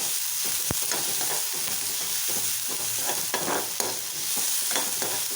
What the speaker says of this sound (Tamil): ரொம்ப வதக்க வேண்டாம், ஓரளவு வதக்கினா போதும்.